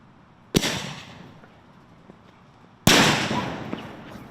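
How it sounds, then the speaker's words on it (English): Two sharp, loud firework artillery shell blasts from a knocked-over launching tube, about two seconds apart, each a sudden crack followed by a decaying rumble outdoors. "we simulated what could happen if a launching tube got knocked over before shooting an artillery shell"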